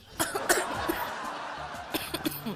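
Several short, sharp coughs burst out close by, irregularly spaced, with some breathy sounds in between.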